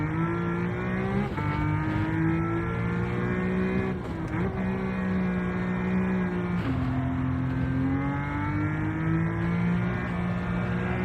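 A race car engine in the video game Gran Turismo 7 revs hard and continuously. A loud, buzzing whine climbs in pitch, drops briefly on gear changes and climbs again, with no other sounds.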